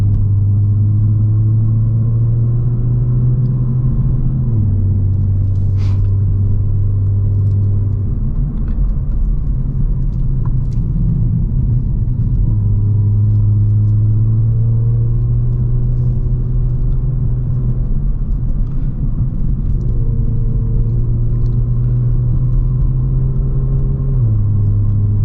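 A 2022+ Kia Stinger GT2 with a Borla active valve exhaust cruises in sport mode on an automatic through canyon roads. A steady, deep engine drone fills the cabin, and its pitch steps down and rises again with each gear change.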